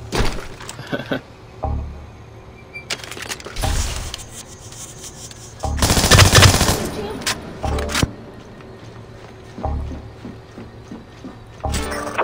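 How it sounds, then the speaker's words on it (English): Gunfire in the sci-fi shooter game Particle Accelerator: bursts of rapid automatic fire and clattering impacts come and go, the heaviest salvo in the middle, mixed with game effects while someone talks throughout. "Why is this blind firing, like literally blind this time?"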